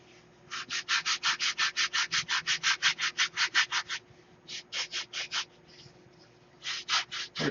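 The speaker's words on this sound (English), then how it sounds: "We're sanding that airfoil in." Coarse 30-grit sandpaper worked by hand over a wooden airfoil in a hangar workshop: a steady run of rhythmic, close rasping strokes, then a short pause and a few more strokes.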